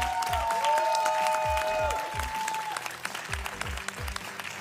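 Studio audience claps for the Groszki Team on a Polish game show, a lively burst of applause riding over a steady, rhythmic thumping beat and sustained musical tones that fade partway through.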